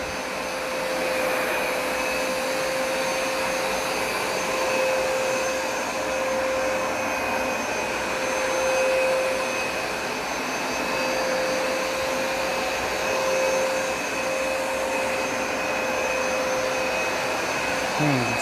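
A Hoover Smartwash Pet carpet cleaner works an upstairs carpet, its loud motor droning steadily with a sustained tonal whine and suction roar, close and uninterrupted throughout.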